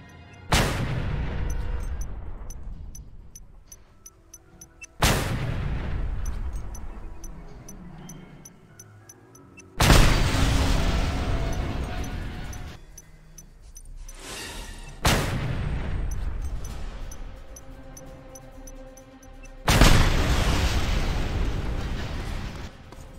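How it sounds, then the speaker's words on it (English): Five heavy fragmentation grenade blasts from the Just Cause 2 video game go off about every five seconds, each a loud sharp boom that rumbles and decays, with crackling gunfire between them. "Fragmentation grenade."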